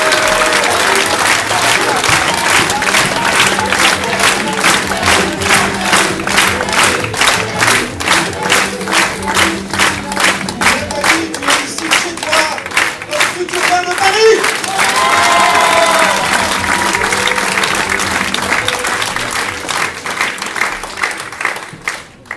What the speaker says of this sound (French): Je vous demande d'applaudir Nathalie Kosciusko-Morizet.